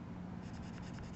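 A pencil scratches along a ruler while shading a one-point perspective letter T, a soft, close, continuous scraping with faint rhythmic strokes.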